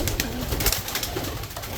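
Young pigeons being trained in a loft coo softly in short bursts close by, with rustling and faint background noise.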